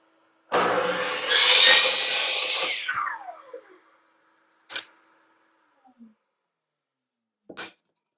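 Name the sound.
cutting clear pine boards for mitered edge pieces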